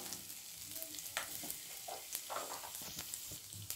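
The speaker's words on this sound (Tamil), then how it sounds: "ஜீரகமும் சேர்த்துட்டு லைட்டாக வறுத்த ஆரம்பிச்சிடலாம்" Cumin seeds frying lightly in a pan on low heat for bun parotta salna, a soft steady sizzle with occasional faint stirring clicks, quiet and alone.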